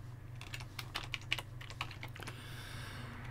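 Quiet, close keystrokes on a computer keyboard come in quick irregular bursts of clicks over a low steady hum, fading to sparser taps at the end.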